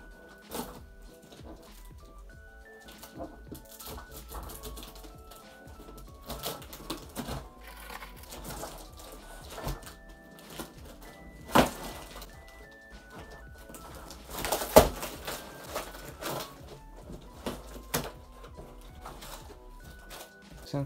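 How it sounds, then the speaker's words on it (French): A parcel is cut open with a ruler, making faint irregular scrapes, taps and cardboard crackles close by, with a few sharper clicks and rips. "On va ouvrir le colis. Alors oui, je fais ça avec une règle"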